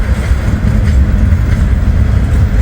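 Loud, close rolling roar of a Norfolk Southern freight train hauling gondolas full of used railroad ties, a dense steady rumble with faint rhythmic clanks and no voices.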